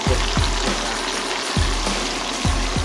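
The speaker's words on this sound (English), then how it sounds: "he added in the garlic and onions, frying that around in the oil" Garlic and onions fry in oil left from frying fish at a Dubai street food spot, giving a loud continuous sizzle with periodic low scraping thumps from stirring.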